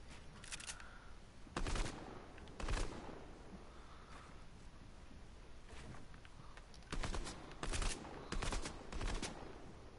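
Bursts of rapid video game gunfire, several short volleys spread across the stretch, moderately loud over a quiet background with no talking.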